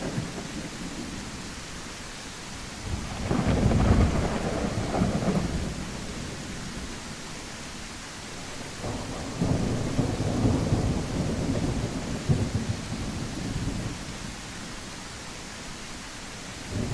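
A video game rainstorm hisses steadily while two deep rolls of thunder rumble through, one early and a longer one midway, with the rain continuing alone between them.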